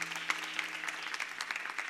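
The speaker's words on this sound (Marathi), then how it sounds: "म्हणून एकदा महाराजांसाठी सगळ्यांनी जोरदार टाळ्या होत्या." An audience at a kirtan gathering gives loud applause for the Maharaj, a short dense wash of clapping with a faint steady tone underneath.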